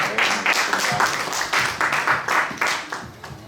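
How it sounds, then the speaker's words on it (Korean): An audience at a small business policy forum claps to welcome a former education superintendent, the clapping falling into an even rhythm of distinct bursts close to the listener. "정만채 전 교육감님을 뜨거운 박수로 맞이해 주시기 바랍니다."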